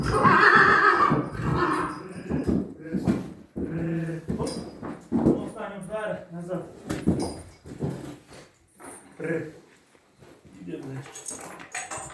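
A horse neighs and whinnies loudly and close by in a stable for visiting mares, with hoof clatter and people talking over it.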